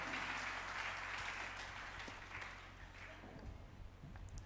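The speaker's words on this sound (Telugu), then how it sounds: "ఇంకొద్ది గట్టిగా చప్పట్లు కొడుతూ వారికి ఈ సమయాన్ని అప్పగిస్తాం" A church congregation claps loudly in sustained applause during a worship service. The dense clapping is strongest at first and thins slightly toward the end over a low steady hum.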